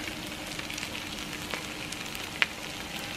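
Potato rösti frying in a pan, a steady low sizzle with faint crackles and one brief sharp tick, quiet and continuous with no voices.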